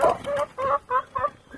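Farmyard hens cluck in a quick series of five or six short, close calls with a rooster-like tone, heard alone without talk.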